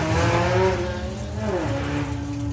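A VW drag race car launches hard off the line at Santa Pod, its engine roaring loudly and continuously with a rising, shifting pitch and tyre noise, close and dominant without talk.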